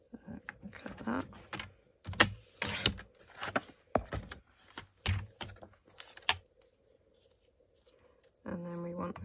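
Paper being cut for a vintage Christmas folio, a run of crisp, close snipping and slicing strokes in irregular bursts, followed by a short stretch of quiet and then a steadier mechanical buzz at the end.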